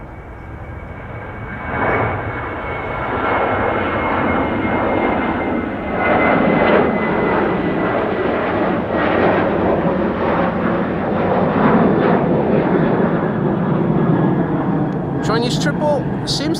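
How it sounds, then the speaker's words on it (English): A KLM jet airliner departing Amsterdam Schiphol for Venice makes a broad, loud engine roar that swells after the first couple of seconds and then holds strong, with a voice talking faintly beneath it. "here we can see KLM flight 1629 off to Venice"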